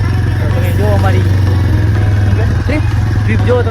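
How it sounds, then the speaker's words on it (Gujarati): A motorcycle carrying three riders sets off toward Anjar, its mid-pitched engine droning steadily and close, with voices talking and a background music bed over the hum. "તો ફાઇનલી મિત્રો બાઇકમાં બેસી ગયા છીએ, જઈએ છીએ હવે અંજાર"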